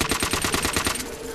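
Rapid automatic gunfire in the Black Ops Zombies video game rattles off in a fast, even burst of about a dozen shots, close and loud, then trails into a ringing tail.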